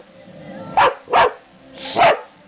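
Three sharp dog barks close by, the first two quick and evenly spaced, the third after a short pause, with a quiet background between them.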